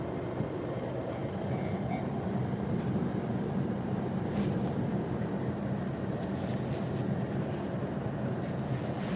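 Steady rumble of a train riding from Ikebukuro to Kumagaya in Japan past open fields, a continuous broadband roar of wheels and carriage with faint higher hiss, constant and close throughout.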